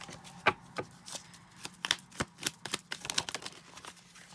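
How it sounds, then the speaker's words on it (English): Tarot cards are tossed and scattered by hand, giving a quick, irregular run of crisp slaps and papery flutters, close and fairly quiet, with no voices. "I'm throwing cards all over the place now"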